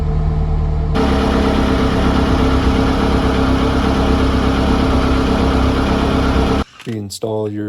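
Toyota Corolla with a 4A-F engine, 1988-1992 model, idling steadily after a restart, a loud, even drone that holds for several seconds, then cuts off abruptly and is followed by brief clatter.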